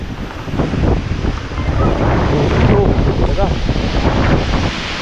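Strong typhoon wind and rain, loud continuous buffeting gusts and hiss that surge and swell over several seconds, with faint voice fragments.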